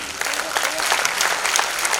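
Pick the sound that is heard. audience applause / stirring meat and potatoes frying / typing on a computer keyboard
audience applause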